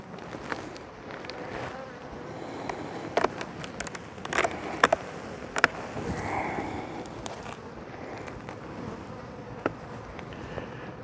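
Honey bees buzz around a hive fitted with propolis traps in autumn, a steady insect drone with occasional louder passes of bees flying close and some faint handling knocks, no talking.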